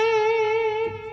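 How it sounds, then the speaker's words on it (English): A sustained Yamaha synthesizer keyboard tone holds one steady pitch, slightly wavering as channel pressure is applied, then fades a little at the end. "if I hit the channel pressure that's on all Yamaha keyboards sounds like this."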